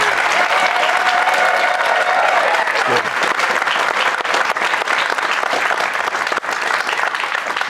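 Studio audience gives a standing ovation, dense sustained clapping and crowd noise at full loudness for the whole stretch, with no talking.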